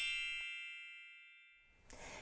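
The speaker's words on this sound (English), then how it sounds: "ringing that notification bell" Notification bell sound effect: a single bright ding rings out clearly, then decays slowly over about two seconds before a faint rustle at the end.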